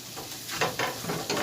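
Noodles frying and being stirred in a pan for a breakfast dish, a steady sizzle broken by several scraping stir strokes close by.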